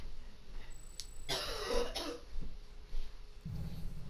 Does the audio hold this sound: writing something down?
no